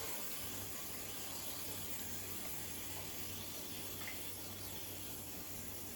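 A steady, continuous hiss from a hand-pumped oil sprayer runs without a break, close and even, with no talking.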